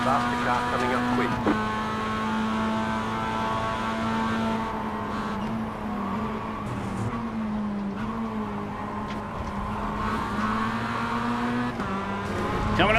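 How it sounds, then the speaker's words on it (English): Race car engines in an eNASCAR iRacing game at Indianapolis Motor Speedway, a steady loud drone of engine tones that rises as a faster car closes in from behind, heard under excited spotter-style talk throughout. "Faster car coming up quick."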